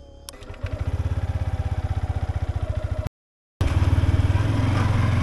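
A Yamaha MT-15 motorcycle fitted with an extra crash guard being ridden off-road: a close, loud engine throbs in a fast, even pulse, cuts out briefly, then returns just as strongly.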